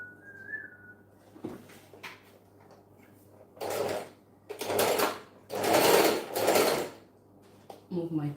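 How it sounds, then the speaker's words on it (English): A sewing machine stitches fabric in several bursts, each a close whirring run of a second or so separated by pauses, with a brief high squeak near the start and small clicks of handling between runs. "I'm stitching it up by half inch"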